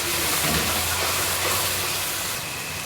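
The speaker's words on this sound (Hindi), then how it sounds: "अब मैं इसको अच्छी तरह से भूनूंगी।" Masala for a fish curry frying in a pan, giving a steady, loud, broadband sizzling hiss that holds evenly throughout with no voices.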